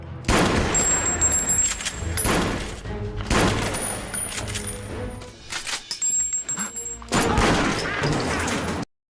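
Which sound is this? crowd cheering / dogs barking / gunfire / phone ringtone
gunfire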